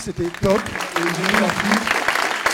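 A conference audience at a startup talk breaks into applause, a busy patter of clapping that runs under a voice as he speaks over it.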